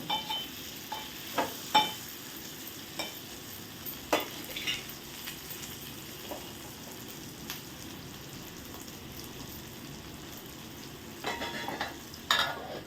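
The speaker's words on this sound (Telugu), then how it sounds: "టమాటా, కారం, కొంచెం వేగిన తర్వాత వంకాయ ముక్కలు" Brinjal pieces frying with tomato and chili powder for a brinjal, potato and tomato curry, a low steady sizzle broken by scattered louder scrapes and clinks of stirring, with no talk.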